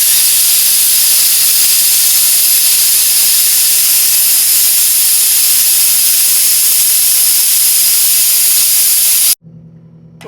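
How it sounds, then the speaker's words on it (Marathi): A pressure cooker whistle vents steam on medium gas, a loud, continuous high hiss lasting over nine seconds before cutting off abruptly to near silence. "आपल्याला 3 शिट्ट्या मीडियम गॅसवर काढून घ्यायच्या"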